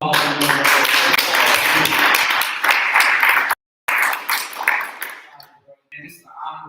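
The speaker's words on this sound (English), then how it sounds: "Round of applause." Audience applause for two panel hosts at a men's month event, loud dense clapping for several seconds, a brief dropout, then tapering into scattered claps and quiet talk.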